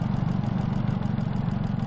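Engine of a 1954 ZIS truck running at a steady idle, a loud, close, rough mechanical rumble with rapid even pulsing and no break, heard alone.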